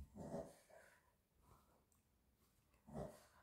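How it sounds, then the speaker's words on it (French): A sleeping dog makes noises while dreaming indoors: soft snorts and breathy huffs come in a few quiet bursts separated by near silence. "c'est le chien. Il est en train de rêver."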